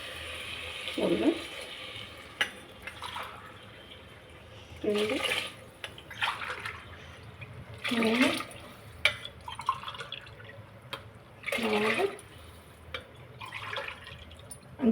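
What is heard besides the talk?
measured water being poured into cooking pot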